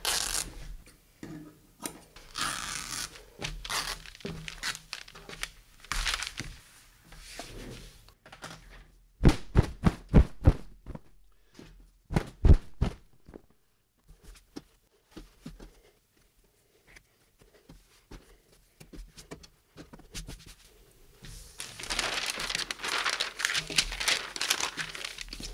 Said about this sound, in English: I need to clip it, continue that down to where now I can tear